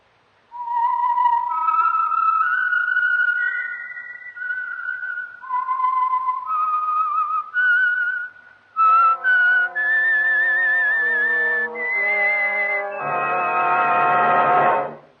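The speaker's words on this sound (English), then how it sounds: "the signal to listen for is this whistle that identifies the Signal Oil program, The Whistler." A bright, clear whistled theme for The Whistler, a Signal Oil mystery radio program, carried as a rising melody of sustained notes and ending in a fuller, louder musical flourish.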